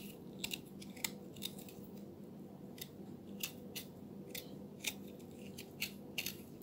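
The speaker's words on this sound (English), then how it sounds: "So I just scrape that off like that." Fresh Jamaican ginger has its skin scraped off by hand for a sorrel ginger drink: faint, close, irregular scratchy strokes with sharp little clicks over a quiet room hum.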